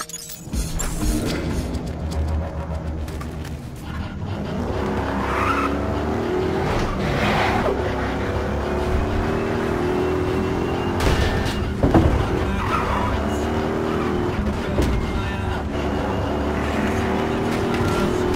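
In Battlefield Hardline, a jeep drives hard, its engine roaring loud and close while the tires squeal through repeated skids for the whole stretch.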